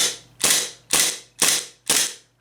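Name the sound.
WE F226 airsoft pistol firing, slide kicking back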